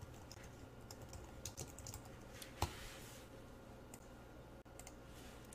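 Quiet typing on a computer keyboard while writing JavaScript code, a run of light, irregular key clicks with one sharper tap partway through, close and alone without speech.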